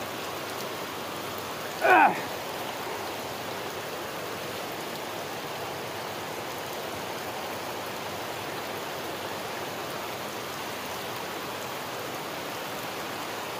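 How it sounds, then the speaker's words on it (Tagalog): Floodwater after Typhoon Kristine flows in a steady broadband rush, continuous and even, with one short sharp clatter near the start. "Ayan yung tubig oh."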